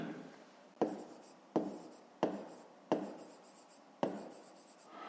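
Handwriting on paper while working a fifth-grade maths exercise, five distinct scratchy pen strokes, each starting sharply and trailing off, close and quiet with no speech.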